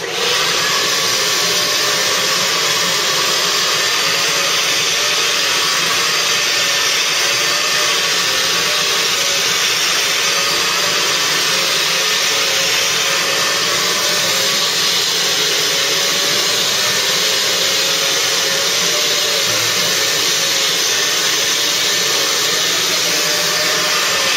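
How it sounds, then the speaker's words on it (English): Steady, loud vacuum cleaner drone on carpet running continuously with a whining motor tone and broadband rushing air, no pauses or voices. "I'm just going to do a little bit more vacuuming"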